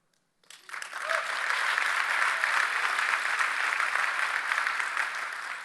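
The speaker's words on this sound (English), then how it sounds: "That was a weak hand clap" A keynote audience breaks into applause that starts abruptly and settles into a steady, even wash of clapping, held at moderate loudness for several seconds without any voices.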